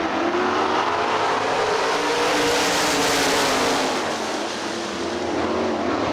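SOD sprint cars roaring through a heat race on the dirt oval at Hartford Speedway Park, a loud, continuous engine howl that swells as the pack passes close and eases slightly toward the end.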